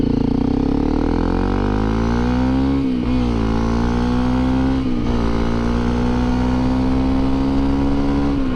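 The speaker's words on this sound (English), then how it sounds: "Let's see what this bike can do here." A Honda CRF250L Rally motorcycle accelerates hard on the road with a loud, steady engine drone that climbs in pitch, drops briefly at two gear shifts, then pulls on strongly, heard close from the rider's position with wind roar.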